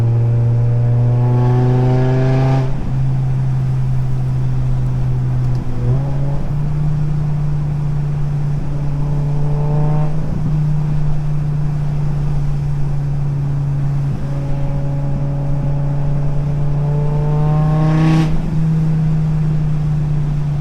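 A BMW M5 E60 with its V10 engine drives by loudly, its exhaust rising sharply through gears in repeated acceleration pulls with brief shift breaks.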